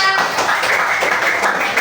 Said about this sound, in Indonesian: tepuk tangan untuk Tijara.